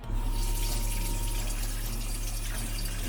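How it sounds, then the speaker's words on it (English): Water runs steadily from a newly fitted lever tap into a boat's sink bowl, a constant close rushing hiss with a low hum beneath and no talking. "So new lever tap."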